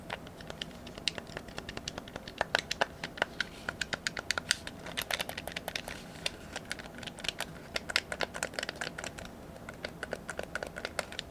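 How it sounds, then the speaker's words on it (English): Rapid plastic clicks of the buttons on a Hyperkin Admiral wireless N64 controller, tapped in quick irregular bursts with a light, cheap, clicky feel, close and fairly quiet with no talking. "the buttons all feel pretty good, but they are a bit cheaper feeling and clicky compared to the Brawler 64"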